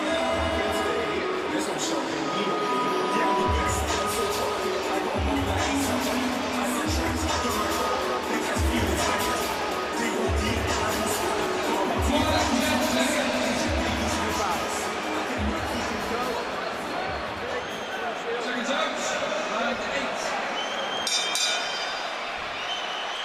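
A 78,000-strong indoor crowd fills Principality Stadium in Cardiff, Wales, during a heavyweight boxing match, a steady roar of hubbub and distant cheering running beneath a commentator who talks throughout.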